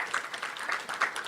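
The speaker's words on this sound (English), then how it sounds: "Let's give her another round of applause." Brief audience clapping after a talk at a science update meeting, a short burst of even, moderately loud applause.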